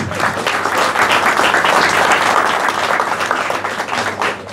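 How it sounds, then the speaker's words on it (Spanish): A crowd applauds steadily for a few seconds at a regional rally event, dense clapping that stays loud throughout before easing slightly at the end. "Fuerte el aplauso para él."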